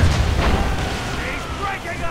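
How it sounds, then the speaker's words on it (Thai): Ship cannons fire in Assassin's Creed Rogue, giving a deep, booming roar that rolls on for a couple of seconds beneath an excited voice talking over it. "ยิงเข้าไปโดนไหมนี่โดนเต็มหรือเปล่า"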